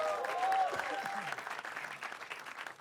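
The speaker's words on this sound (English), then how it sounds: "Can we have a round of applause for Alia Bhatt?" A comedy show audience gives Alia Bhatt a brief, fairly faint round of applause. Scattered clapping and crowd murmur are heard, with a voice briefly over the start.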